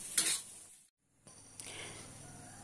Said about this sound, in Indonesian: jadi kita masukkan garam sama Ajinomoto dan jangan lupa digaul-gaul-gaul